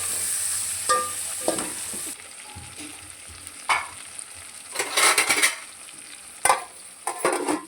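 Okra pieces fry with tomato in a pan, a steady sizzle under repeated uneven scrapes and clinks of a metal spoon against the pan, close and moderately loud, with no one talking.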